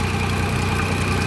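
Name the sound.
engine of homemade motor pump running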